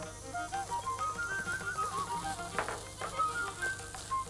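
Fennel, roasted gram and green chillies frying in hot oil, a continuous close sizzle with a few stirring scrapes and a faint whistling tone above it.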